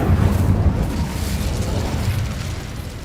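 Incendio fire spell cast in a Harry Potter video game, a loud roaring burst of flame that swells at once and rumbles on steadily for a few seconds, with no talk over it.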